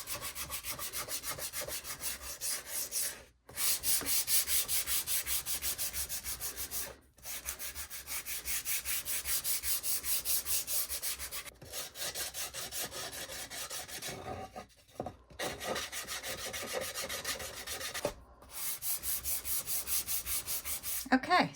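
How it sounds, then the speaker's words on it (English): A sander scuffing a painted wooden Dollar Tree piece, giving a loud, steady rasping hum in long passes separated by short pauses. "just take a sander and just scuff it up a bit"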